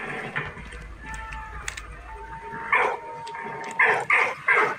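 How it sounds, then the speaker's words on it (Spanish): A dog in the World War I video game Valiant Hearts barks in several short, sharp bursts toward the end, loud and close, after a quieter stretch of faint whimpering and game ambience. "El perro me alerta de algo, hay enemigos. ¡No ladres!"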